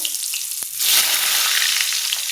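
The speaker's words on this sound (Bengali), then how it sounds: "এই যে এখন বেগুন ভাজবো" Eggplant slices frying in a pan, a loud close sizzle that jumps up sharply as the slices hit the hot oil and then hisses steadily.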